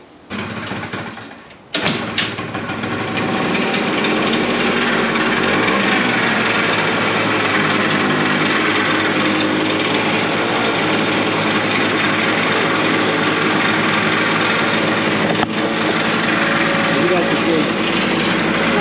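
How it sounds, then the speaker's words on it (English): A Can-Am DS90 ATV engine starts and then runs steadily and loudly at close range for the rest of the clip, with a harsh, raspy drone that may come from a worn belt. "I'll start it up one more time"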